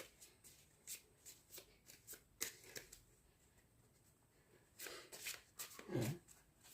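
Tarot cards are shuffled by hand in a quiet room, a run of soft riffling bursts with short pauses between them, close and clear, and no one speaks.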